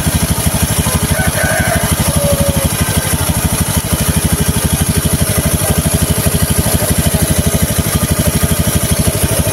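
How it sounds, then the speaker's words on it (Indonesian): A Honda Vario 110 LED motorcycle engine idles nearby with a steady, rapid putter of even pulses, loud and continuous throughout, with no talk over it. "coba kita cek posisi mesin menyala seperti ini kawan"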